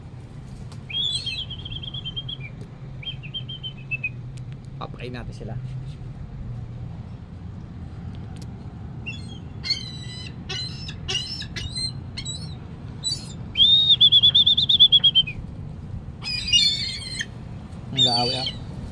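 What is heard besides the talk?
birds chirping while being fed outside a supermarket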